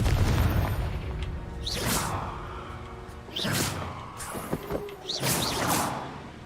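Confringo blasting spell in the Hogwarts Legacy video game, several loud booming bursts with whooshing sweeps, scattered over a few seconds amid game effects and no speech.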